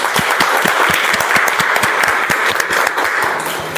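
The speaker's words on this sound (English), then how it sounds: "Let's give a big round of applause to the author, to the content creator, and the startup founder" Loud, close applause from a meeting audience, with distinct individual hand claps standing out in a quick irregular rhythm over a continuous wash of clapping throughout.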